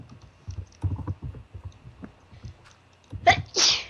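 A single sharp sneeze near the end, after a few seconds of light clicking and tapping like keyboard or mouse use during a Minecraft game session.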